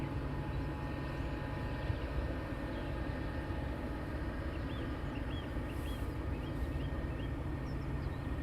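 Steady, continuous aircraft engine drone from a plane taxiing at London Luton Airport, a broad constant roar with no talk and no clear rise or fall across the stretch.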